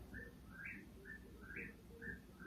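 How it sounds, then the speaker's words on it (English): A whip-poor-will calls right beside a house, repeating its three-part whistled song in a steady rhythm, clear but soft over a quiet background. "That's that whippoorwill. That's the name of the bird."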